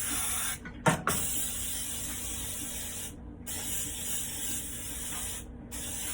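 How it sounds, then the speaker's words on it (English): A baking spray with flour already mixed in is sprayed into a cake pan in several long, loud hissing bursts, separated by short pauses and a small clack. "I'm using the baking spray that has the flour and the spray already in it"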